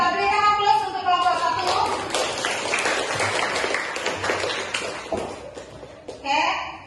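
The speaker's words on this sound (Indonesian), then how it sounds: "Kita berikan aplaus untuk kelompok" A student group in a classroom gets a short burst of clapping from classmates amid talking voices, with a tap or two at the end.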